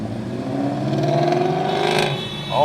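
Ford Mustang GT500 on a mountain run accelerating nearby, a rising engine roar with climbing pitch that swells toward the end, with no talk.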